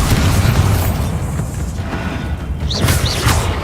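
A Bombarda spell going off in Hogwarts Legacy, a loud, deep boom that rolls into a dense rumbling burst, followed by brief rising whooshing swells near the end.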